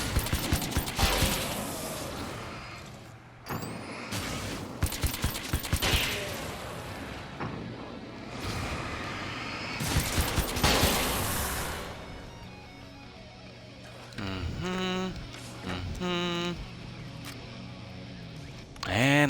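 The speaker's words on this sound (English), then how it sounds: "And back to nail gun, alright." Nail gun firing in the video game Alan Wake's American Nightmare, several sharp bursts of loud rapid shots separated by quieter gaps, mixed with thuds and other game effects, with someone talking in between.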